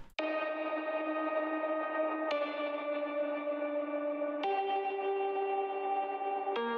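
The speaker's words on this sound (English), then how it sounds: "added this hyper-compressed electric piano that's just playing" A heavily compressed electric piano holds sustained root notes, changing chord roughly every two seconds with a sharp attack on each change. The tone is dense and effect-laden, with no talking.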